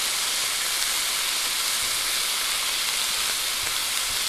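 Steady, loud sizzle of a stir fry in a hot skillet, a dense broadband hiss that holds unbroken and even throughout with no talking over it.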